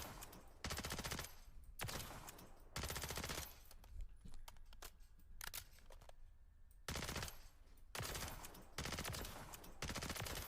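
Rapid automatic gunfire from a video game weapon with recoil control enabled, in several loud sustained bursts separated by short quieter gaps.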